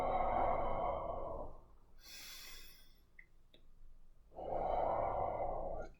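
Slow, audible exhales during qigong practice, two long breaths near and soft, separated by a brief quieter inhale and faint rustle.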